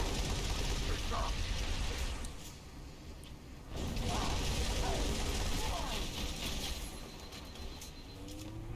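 A Covenant Wraith tank being hijacked in Halo 3, with a dense, continuous rumble of mechanical clatter and weapon fire that dips briefly midway before swelling again.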